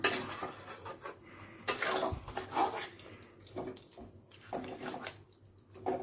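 Grated coconut being stirred with jaggery in a pan at home late at night, giving repeated scraping and clinking of a utensil against the pan in irregular bursts, close and fairly soft, with no talk.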